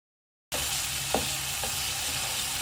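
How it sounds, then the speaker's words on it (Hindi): Raisins and grated carrot fry in a pan with a steady, close sizzle that starts abruptly after a brief silence, with a couple of faint stirring clicks and no talking. "जब किशमिश अच्छे तरीके से फ्राई होने लगेगी और फूलने लगेगी तो हमने अपनी ग्रेटेड कैरेट भी इसके अंदर शामिल कर देनी है और दोनों चीज़ों को अच्छी तरह से फ्राई कर लेना है"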